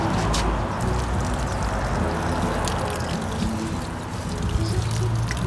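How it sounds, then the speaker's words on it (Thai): Water pours steadily onto organic lettuce seedlings in nursery bags, a loud, continuous splashing rush close to the microphone, with no talk. "น้ำให้ชุ่มนะคะ"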